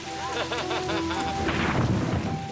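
Heavy tropical rain pours on an island camp with thunder rumbling through it, a dense, close, continuous hiss and patter over low booming swells.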